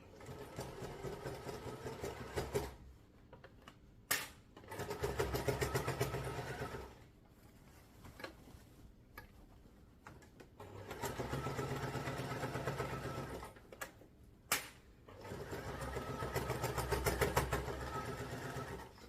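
Domestic sewing machine stitching fabric under a presser foot while a storage cube bag is sewn, a steady mechanical whir running in several bursts separated by short pauses.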